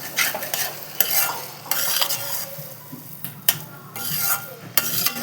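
Barnyard millet is stirred and sautéed with curd and sugar in a pan, a close, soft sizzle under repeated scraping and clinking of a spoon against the pan, with no talk.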